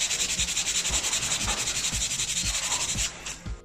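A cricket bat is scrubbed to lift red marks, giving a close, rhythmic rubbing and scratching with steady back-and-forth strokes that stop near the end.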